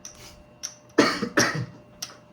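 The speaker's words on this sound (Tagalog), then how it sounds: "Inuubo ako." A person coughs a few times in short, rough bursts, fairly close, during a casual indoor card game of tongits.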